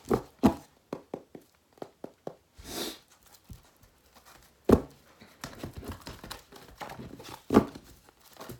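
A deck of cards being shuffled up close, with a few quick riffles and scattered taps and clicks. No one speaks.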